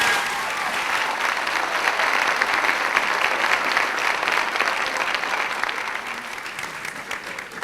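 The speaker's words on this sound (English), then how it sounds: "I'd ask that you give them a round of applause" A high school senior honors ceremony audience gives sustained applause for the parents, a dense, even roar of many hands clapping that holds for several seconds and then tapers slightly at the end.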